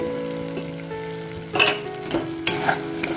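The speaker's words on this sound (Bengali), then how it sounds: "এখন আমি ভেজে রাখা পনিরগুলো এর মধ্যে অ্যাড করে দিচ্ছি" Fried paneer is stirred into a pan with capsicum, bringing a close, steady sizzle with bursts of louder frying and several scraping stir strokes in the second half.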